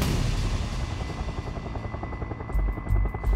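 A rescue helicopter on a backcountry search and rescue mission drones loudly and steadily with rapid rotor chop, heard close and continuous throughout with no voices.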